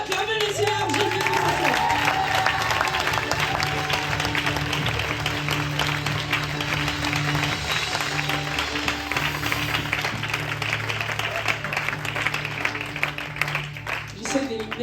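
A church congregation at a conference applauds and cheers in praise, with dense sustained clapping and crowd noise filling the whole stretch, and voices mixed in.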